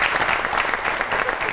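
A studio audience on a television comedy program claps steadily in a short, even burst of applause.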